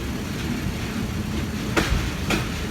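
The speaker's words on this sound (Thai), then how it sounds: "367 ออกเดินทาง 10นาฬิกา10นาทีตรงเวลาครับ" Train number 367 pulls out of Bangkok's Hua Lamphong station with a steady rolling rumble, and two sharp rail-joint clacks ring out near the end.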